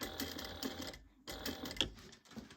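A sewing machine stitches a bag in short, steady runs of rapid needle clatter, close and clear, broken by a brief pause midway.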